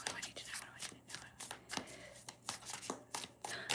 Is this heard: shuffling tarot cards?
yes